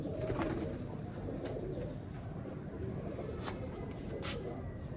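English cross-breed pigeons coo softly in a cage, their low, repeated calls faint against a steady background hum.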